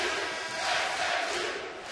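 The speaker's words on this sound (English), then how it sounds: "Crowd on its feet." A basketball arena crowd on its feet during a Cincinnati at SMU college game, a broad roaring cheer that swells and holds for a couple of seconds, loud and continuous with no clear voices on top.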